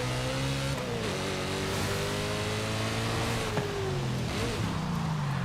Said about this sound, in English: if we're cruising in second and we punch the throttle, you'll see it picks up slowly